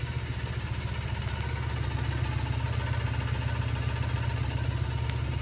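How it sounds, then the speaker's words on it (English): Carbureted Triumph Bonneville motorcycle engine idling steadily with an even, throbbing low pulse and light mechanical clatter, heard alone without speech. "You can hear my Triumph in the background."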